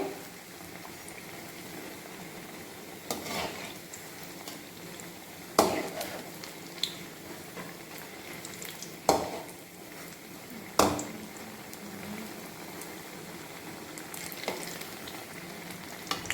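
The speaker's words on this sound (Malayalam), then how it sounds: "നമ്മുടെ പഴംപൊരി അങ്ങനെ ഫ്രൈ ആയിട്ട് വരുന്നുണ്ട്." Pazhampori banana fritters fry in a small amount of oil, a continuous soft sizzle broken by several sharp utensil knocks and clatters at irregular intervals.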